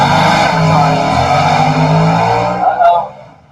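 A 2019 Camaro factory super stock drag car, naturally aspirated, at launch: loud, close engine roar with tire spin, holding steady before the power is cut and the sound drops away near the end.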